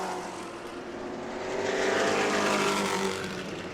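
Pro trucks race around a track, their engines roaring as a dense, continuous rumble that swells louder mid-clip as they pass, then eases slightly.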